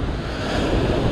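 Ocean surf breaking against rocks on the Sydney coast of Australia at a fishing spot: a loud, continuous roar of crashing water mixed with gusting wind noise, with no voices.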